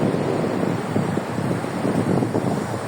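Big sea waves churning near the shore, a continuous roaring wash with wind noise hitting the microphone and no voices.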